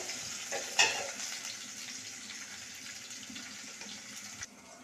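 Steady sizzling of onions sautéing in a hot pan, a constant hiss with a brief clatter near the start, close and moderately loud.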